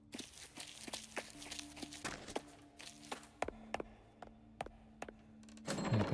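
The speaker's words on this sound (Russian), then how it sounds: "В фоне звукового дизайна мне нравятся шаги." Footsteps in the video game Sorceress make a steady series of soft, dull thuds at a walking pace over a low ambient hum, ending in a brief burst of louder noise.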